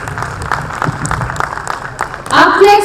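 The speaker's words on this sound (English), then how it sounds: "Can we have a big round of applause again" A conference audience at a corporate volunteering conclave gives a round of applause, a scattered patter of claps beneath a speaker's voice before a louder voice cuts in at the end.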